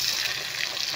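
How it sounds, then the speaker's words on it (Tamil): Chopped tomato sautéing in a pan while cooking thoothuvalai kuzhambu, a soft steady sizzle with faint hiss throughout a brief moment, no voices. "இதை நல்லா சுருளை வதக்கிக்கலாம்"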